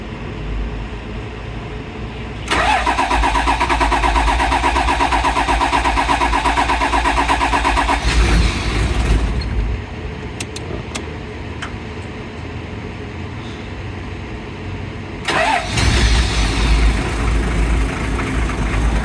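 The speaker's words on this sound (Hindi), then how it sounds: "गाड़ी स्टार्ट हो गई है, इंजन की आवाज़ अच्छी है।" A 1988 Toyota Land Cruiser 60 Series engine turns over and catches, then settles into a steady idle, with a second surge of revving near the end; no voices.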